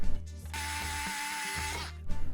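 A wood screw driven into an LED lighting profile with a power driver, giving a close, steady whirring grind for about a second and a half, bracketed by brief handling clatter, no talk.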